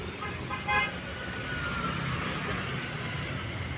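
Busy road traffic with many vehicles, a continuous low roar of passing cars and trucks with a short horn toot early on, heard from moderately near with no clear talk.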